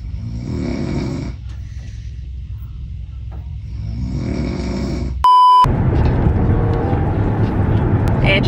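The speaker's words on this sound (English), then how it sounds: "Insert the clip right here. Of them snoring." Loud, close snoring rises and falls in slow repeated breaths, followed by a brief electronic beep and a louder stretch of rumbling background noise.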